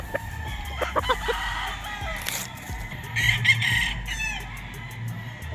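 Red Kelso gamefowl roosters crow at a game farm, several loud crows rising over steady clucking and farmyard murmur, close by with no talk.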